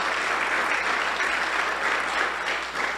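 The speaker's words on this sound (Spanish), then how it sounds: "Denle un aplauso de bienvenida." A church congregation applauds in welcome, steady full clapping from a crowd throughout.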